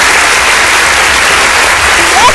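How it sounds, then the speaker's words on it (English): Steady dense applause from a comedy club audience, a continuous wash of clapping filling the whole stretch at fairly loud level, with no clear voice standing out above it. "That's all they do is clap for you."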